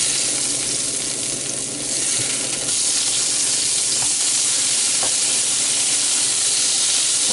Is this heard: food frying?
yes